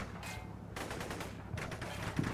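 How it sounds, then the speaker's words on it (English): Gunfire in the video game Combat Mission: Cold War, US against USSR forces in a village assault: dense, rapid bursts of rattling shots that come in waves, moderately loud and continuous with no talk. "So they start opening fire and it's a fight."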